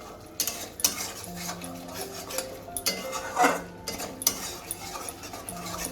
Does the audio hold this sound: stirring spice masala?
yes